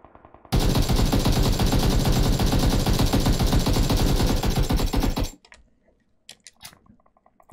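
An AKM rifle firing full-auto in a video game, one long loud burst of rapid, evenly spaced shots lasting about five seconds, then a few faint clicks and small sounds after it stops.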